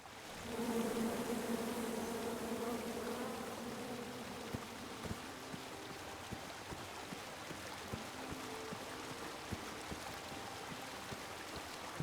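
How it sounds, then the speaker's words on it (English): Bees buzz in the King's Quest video game, a wavering drone that is strongest for the first few seconds and then fades into a steady rushing, water-like background with occasional soft clicks. "Was I trying to get the bees to sting me?"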